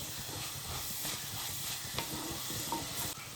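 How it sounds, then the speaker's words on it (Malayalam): Kallummakkaya, a mussel fry, being stirred in a pan, with repeated scraping and tossing over a soft sizzle, fairly quiet and close, with a few sharp clicks. "എല്ലാം ഇട്ടിട്ട് ഒന്ന് മിക്സ് ചെയ്താൽ കേട്ടോ"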